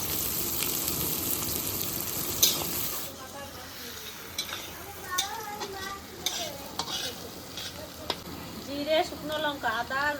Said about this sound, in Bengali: পেঁয়াজটা দিয়ে দেবো লবণটা দিয়ে দেবো